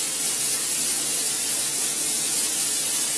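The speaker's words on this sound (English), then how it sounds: "Just with that non-stick spray again." Non-stick cooking spray hisses steadily from an aerosol can onto nacho chips, a loud continuous spray with no talking.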